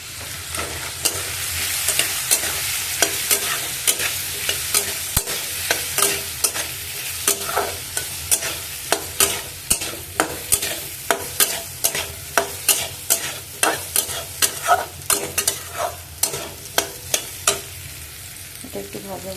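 Food fries in a pan while a spoon stirs it, producing a steady sizzle punctuated by regular, sharp scraping strokes that grow more rhythmic and distinct toward the end, with no one talking.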